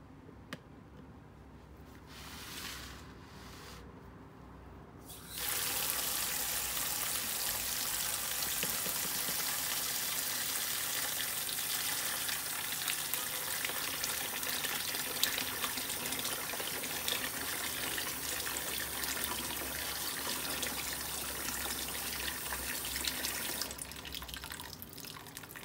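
Tap water gushes steadily into a sink while black olives are washed, a loud continuous splashing hiss that starts after a few quiet seconds with faint clinks and eases near the end.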